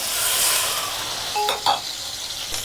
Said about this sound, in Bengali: মাছ ভাজা শেষ